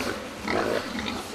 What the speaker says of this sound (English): these are very special pigs